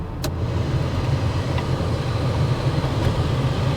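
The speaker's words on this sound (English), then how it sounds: "The car runs very smoothly." Steady low rumble of an Oldsmobile Toronado engine running while driving, a smooth continuous drone with road noise and a couple of faint brief clicks, no talking.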